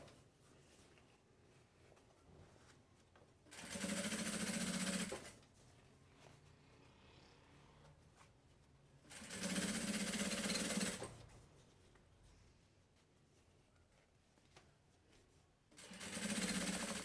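A sewing machine topstitching a fabric trunk bag runs in three short bursts of steady rapid whirring, each about two seconds long, separated by quiet pauses.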